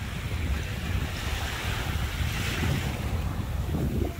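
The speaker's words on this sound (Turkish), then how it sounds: "Hava rüzgarlı." Steady wind and surf at Balıkova beach in Urla, with waves washing in continuously and gusts buffeting the microphone throughout, loud and close, with no voices.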